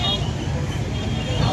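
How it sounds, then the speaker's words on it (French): Rush-hour road traffic in Bamako, a steady low rumble of car and bus engines with a background hubbub of voices, continuous and moderately loud throughout. "À l'heure de pointe, la circulation est déjà saturée."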